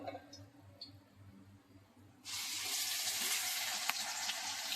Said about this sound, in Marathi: तेल गरम झालं की वाटण केलेलं ना मसाला तो टाकूया